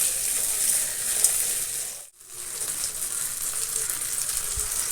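Green peas (matar) are stirred into a frying mixture in a pan for mandi matar paneer rice, with a steady bright sizzle that briefly drops out midway before resuming.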